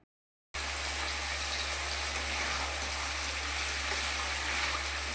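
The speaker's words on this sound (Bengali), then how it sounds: "এখানে জল দিয়ে মাটনটাকে কষাবো" Mutton for biryani sizzles and bubbles in a pan after water is added, a steady close hiss of frying starting abruptly and continuing evenly with no talk.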